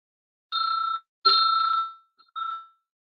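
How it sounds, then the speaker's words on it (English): A debate timekeeper's bell gives three short, bright rings in an otherwise quiet room, the second ring lasting longest. "At the end of the 8 minutes, the bell will be rung twice"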